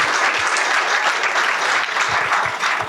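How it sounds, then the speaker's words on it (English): An audience at an award presentation claps steadily, a full, even burst of applause from a roomful of people, moderately loud and unbroken. "So a round of applause for Selman for doing this."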